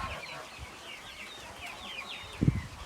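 Soft clucking from an Indian breed chick among village chicks on a farm, with a brief louder burst near the end over low background noise.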